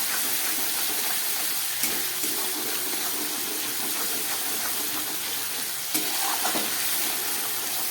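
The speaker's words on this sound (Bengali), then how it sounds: "আদার কাঁচা গন্ধটা যাবার জন্য একটু ভালো করে কষিয়ে নিচ্ছি।" Ginger and ground spices sautéing in a pan for a vegetarian potato curry, a continuous close sizzle with a couple of sharp stirring clicks.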